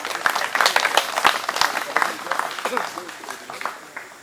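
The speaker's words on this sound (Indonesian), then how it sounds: "Tepuk tangan untuk Desa Tondo Bakaru." Crowd applause at a village festival in Tondok Bakaru, Mamasa, with loud, dense clapping and several sharp individual claps standing out near the front, alongside voices in the crowd.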